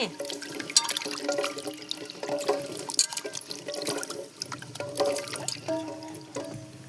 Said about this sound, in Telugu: శుభ్రంగా కడుక్కొని